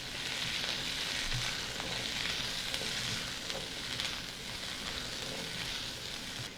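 Chicken and asparagus sauté in a hot pan, giving a continuous even sizzle with faint stirring scrapes.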